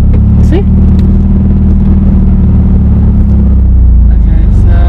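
A manual stick-shift car's engine, heard from inside the cabin as the clutch engages, gives a loud, steady low rumble that rises slightly near the end. A brief voice is audible early on.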